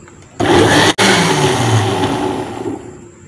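Kitchen blender whirring through mango, milk and ice for homemade mango ice cream, starting abruptly with a loud steady motor roar, cutting out for a split second, then running on and gradually easing off.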